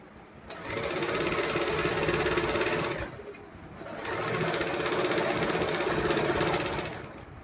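A sewing machine stitching suit fabric, running in two sustained bursts with a short pause between, its steady mechanical whir close and loud.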